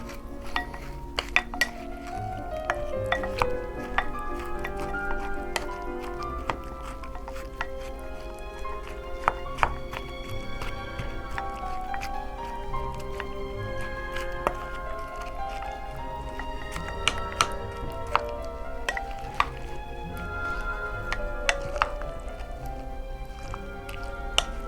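Dinosaur kale salad being tossed and mixed in a bowl, with soft wet squishing and scattered light clinks of utensils against the bowl, steady and close over several seconds, with no talking.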